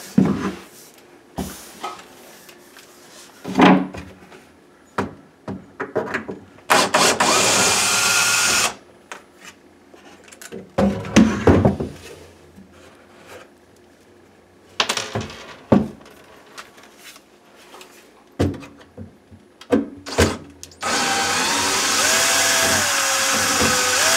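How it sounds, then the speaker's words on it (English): Power drill backing screws out of a countertop, with repeated short whirring bursts and a few longer sustained runs, close and loud, separated by clicks and knocks of handling. "take those screws out now"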